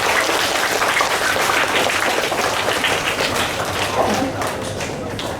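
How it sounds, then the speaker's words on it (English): A school assembly audience gives a loud, sustained round of applause to a fourth-grade class after their performance, a thick continuous roar of clapping that thins slightly toward the end. "I think we can first start with giving them a big round of applause."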